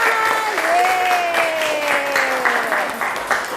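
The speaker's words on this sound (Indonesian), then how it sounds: "Tepuk tangan dong buat kalian semua." Participants applaud during an online academic coaching session, steady light clapping from several people throughout, while a voice with a wavering tone carries on under it.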